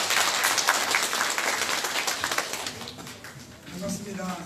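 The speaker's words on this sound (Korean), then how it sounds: "시장님을 큰 박수로 맞이해 주시기 바랍니다." Audience applause at a city regional council meeting as the mayor is welcomed, dense clapping filling the room for several seconds, thinning slightly toward the end.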